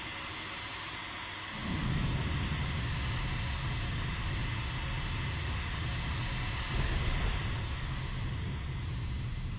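Boeing 767-400ER jet engines in the X-Plane 11 flight simulator at Dubai International, a steady broad roar that swells up after a quieter start and holds loud and constant to the end.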